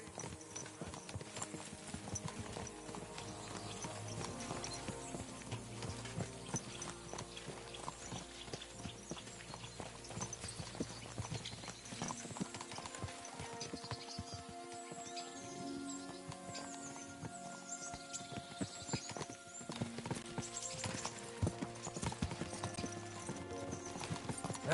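Horse hooves clip-clopping in the video game Kingdom Come 2, a steady rhythmic walk of close hoofbeats that runs throughout, with layered game ambience and faint background sounds.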